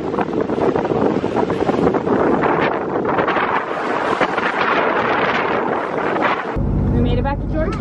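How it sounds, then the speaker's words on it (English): Gusty wind buffets loudly on a sailboat in the Bahamas, surging and roaring with a rain squall's rushing hiss; a voice speaks under it before a sudden drop in the roar. "We got a squall coming in. We're getting some pretty good gusts and it's raining."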